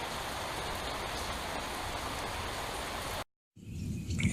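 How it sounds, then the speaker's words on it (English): Rain falling steadily around a parked RV, a dense, even hiss filling the soundscape for several seconds, cut by a brief silence before the hiss resumes with some low rumbling. "there was a little rain for you"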